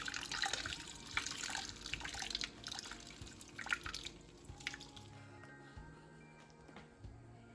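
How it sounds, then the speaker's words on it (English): Whey draining from hung cheesecloth while making Amish cup cheese from clabbered milk, a faint steady trickle and scattered drips in a quiet kitchen, busier at first and thinning to sparse single drops. "I'm just gonna let it hang right there and drain for a couple hours"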